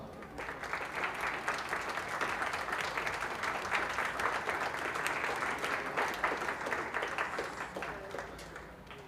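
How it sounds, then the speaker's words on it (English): Audience applause at a junior fair sheep show, a sustained round of dense clapping from a sizable crowd that swells and then eases off over about nine seconds, with no talking. "Give them a nice round of applause."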